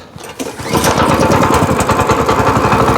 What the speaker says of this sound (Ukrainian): Як запускається двигун, а?